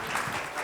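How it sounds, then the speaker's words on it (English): Audience applause during a talk on agile coaching, a short burst of steady clapping that fills the moment evenly without breaks. "Round of applause for these guys."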